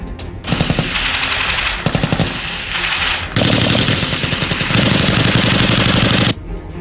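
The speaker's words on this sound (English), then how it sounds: "With a view to exposing them to different heavy weapons, the cadets are taken to a comprehensive field exercise for a couple of days by the name Field Fire" Heavy weapons, including machine guns, fire in sustained bursts and long rattling strings during the Field Fire military exercise at Hathazari, Chattogram, loud and close with brief pauses between volleys.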